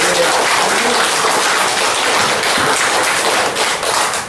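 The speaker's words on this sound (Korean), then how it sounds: "하나님께 큰 박수로 감사와 기대의 박수로 영광 올려드립니다" A church congregation during a Sunday service breaks into loud, sustained applause, a dense wash of many hands clapping that fills the room and eases slightly toward the end.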